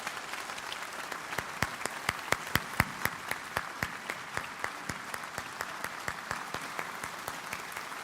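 A concert hall audience applauds the musicians, a dense, steady wash of many hands clapping with a regular pulse of prominent individual claps, sustained for eight seconds without speech.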